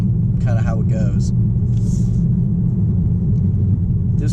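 A 2017 Chevrolet Camaro Fifty with a 4-cylinder turbo engine drones with a steady, loud low rumble while driving. The engine noise is continuous and close, with brief speech heard over it near the start.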